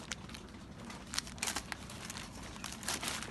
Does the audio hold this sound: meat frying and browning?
no